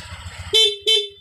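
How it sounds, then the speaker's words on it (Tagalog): Two short, loud toots from the horn of a Honda Click 150 motorcycle, honked close by in quick succession with a brief gap between them and no talking. "Gana lahat, pati busina,"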